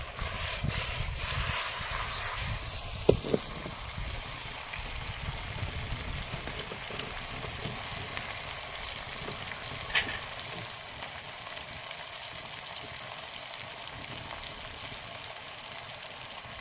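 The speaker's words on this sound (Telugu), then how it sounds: "కొంచెం అట్లా వేడైన తర్వాత పులుసు పోసేసినామంటే అయిపోతుందండి" Tamarind fish broth with raw mango going into a hot pan, a steady loud sizzle and bubbling hiss that holds throughout, close by, with a couple of brief knocks.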